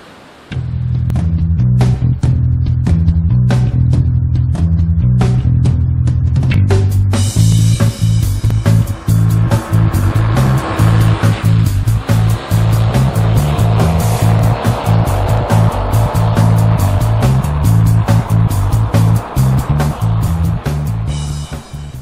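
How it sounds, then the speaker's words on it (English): Big Falls on the Humber River in Newfoundland pours with a loud, constant rushing roar of whitewater, steady throughout with no voices. "This is Big Falls on the Humber River in Newfoundland."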